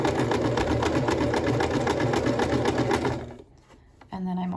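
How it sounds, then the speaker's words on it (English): Sewing machine running a quick back stitch on a skirt seam, steady rapid whirring for about three seconds, then stopping briefly before starting up again, close and loud with no talking. "So first I'm going to do a quick back stitch, and then I'm going to pull it open and sew across."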